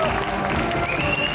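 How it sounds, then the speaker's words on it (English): Audience applause fills a convention hall in one dense, steady wash of clapping and crowd noise, close and sustained throughout. "a round of applause for my fantastic team of marketers"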